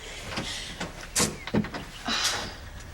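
Someone opens the front door of a house in a daytime TV drama, with a few close clunks and rattles of the latch and door.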